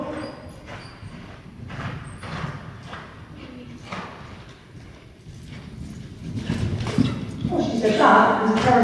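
Horse cantering during a riding training session, its hooves thudding in a steady rolling rhythm, mixed with talk and instruction over the arena noise.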